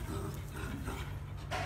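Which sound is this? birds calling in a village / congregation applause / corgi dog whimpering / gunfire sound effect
corgi dog whimpering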